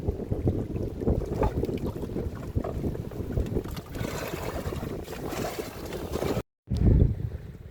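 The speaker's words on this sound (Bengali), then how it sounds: "আর হাওয়া কিন্তু এখনো কমেনি বন্ধুরা।" Wind gusting across a fishing boat out on the Sundarbans waters, a steady broadband rush with buffeting that briefly cuts out near the end, then returns louder and closer.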